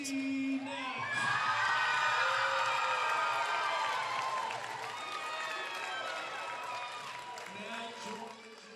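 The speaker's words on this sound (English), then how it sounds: "I'm going to give the time for you to hear the cheer" Crowd cheering and shouting at a college basketball game for a senior LSUA player, a loud swell of whoops and voices near the start that gradually fades over several seconds, with an announcer's voice mixed in.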